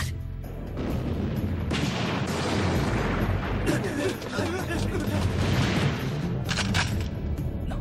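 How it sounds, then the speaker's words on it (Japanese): Continuous loud, rumbling explosions and heavy blasts fill an action scene from the 1996 film Landlock, with dense booming and crackling that sustains throughout at close range. "この爆発は"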